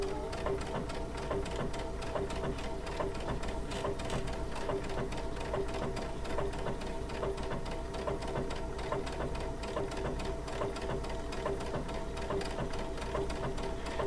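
A Baby Lock Altair sewing machine fitted with a circular sewing attachment stitches through a quilt sandwich, giving a steady, unbroken mechanical whir and rapid needle chatter throughout, with no voices.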